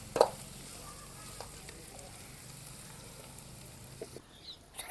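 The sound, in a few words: chicken leg pieces frying and being turned in pan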